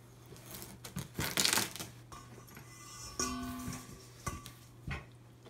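A sharp knife slices a whole watermelon in half, with crunchy bursts of cutting through rind and flesh, then knocks and thuds as the halves are handled on a board, close and fairly clear.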